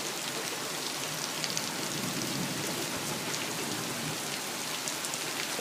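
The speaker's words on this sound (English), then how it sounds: "Rain's picking up." Heavy rain pours down during a morning thunderstorm, a dense, steady hiss of drops hitting surfaces that stays constant throughout, with no voices or distinct thunder.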